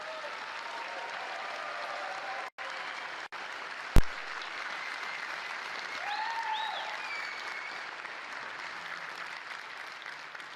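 A large presentation audience claps and cheers for CCP employees seated at the back, a continuous dense wash of applause lasting about ten seconds, with a few sharp clicks and brief whoops rising through it.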